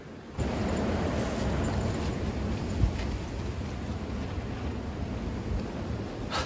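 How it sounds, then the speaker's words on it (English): Strong storm wind roars and buffets continuously against the microphone at a truck tent, with a louder gust surging partway through. "Those wind gusts were just freaking insane."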